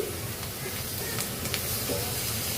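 Onions fry to light brown in a pan for a country chicken curry, giving a dense, even sizzle that holds steady and close throughout, with no talk.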